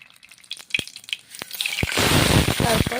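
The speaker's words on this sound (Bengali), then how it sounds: "জিরেগুলো ভেজে নিচ্ছি" Cumin seeds and dried red chillies fry in hot oil in a kadai for lau masoor dal, a few sharp pops and clicks at first, then a steady, close sizzle that swells and holds loud to the end.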